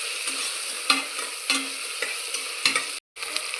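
A spoon stirs spiced rice mixture with sliced tomatoes in a hot pan, producing a continuous sizzle broken by rhythmic scraping strokes about every half second and one brief pause.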